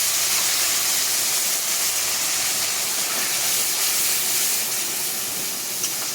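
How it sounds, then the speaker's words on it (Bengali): Spice paste of chilli, turmeric and cumin powders poured into a hot pan, producing a loud, continuous hissing sizzle that holds steady throughout. "এবার এই মশলাটা আমি এখানে ঢেলে দেবো"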